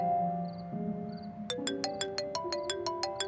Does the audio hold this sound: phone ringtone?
yes